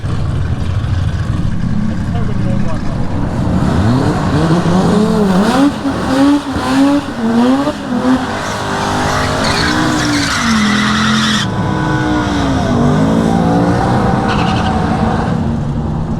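A race car's engine revs and rises in pitch while tires squeal and skid repeatedly, loud and close, then the engine note fades down.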